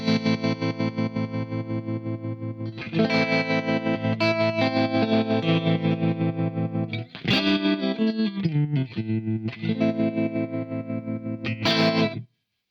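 Universal Audio Astra Modulation Machine pedal set to square-wave modulation, processing a sustained, chordal instrument with choppy, stepped pulsing and distorted chorus-like wobble, played loud and continuous with brief breaks.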